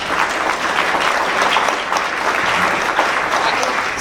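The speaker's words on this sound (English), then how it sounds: "a round of applause for our panelists" An audience at a business association summit applauds panelists with steady, dense clapping from a full room, sustained evenly for several seconds.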